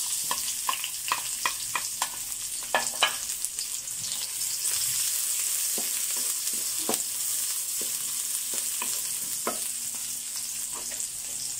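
Onions sizzle and fry in a pan for a pork liver dish, with a steady crackling hiss, close and clear, broken by the scrape and clatter of stirring, with no talking.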